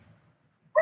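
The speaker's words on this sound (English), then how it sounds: "Noisy dogs, noisy neighbors." Dogs on a rural smallholding at night break into a short, loud bark close by near the end, after a faint low rumble and near silence.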